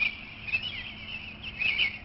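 Springtime birds sing in a thin, high chorus of chirps and trills, fairly faint and continuous, with a few brighter notes standing out.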